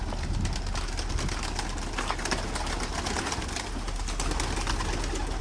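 Pigeons flutter and coo continuously at close range, with a dense, steady wash of wings and soft calls filling the whole stretch and no talking.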